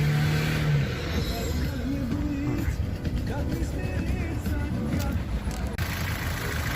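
A running 1.6 petrol car engine with 133,000 km on it idles steadily at close range in a busy car market, with a constant drone, some background chatter and a brief tonal hum at the start.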